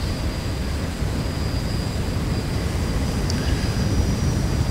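A simulated aircraft passing by in a flight simulator game, a loud, steady engine drone that holds evenly throughout with a thin high whine on top.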